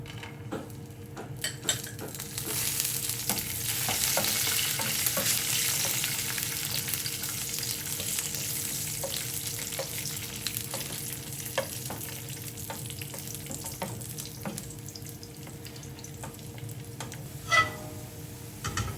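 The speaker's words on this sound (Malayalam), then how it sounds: "നമുക്ക് കാഷ്നട്ടും മുന്തിരിങ്ങയും കൂടെ വറുത്തിടാം കേട്ടോ" Steady, close sizzling of cashews and raisins frying in hot ghee for semiya payasam, with occasional stirring clinks and scrapes of a spoon against the pan.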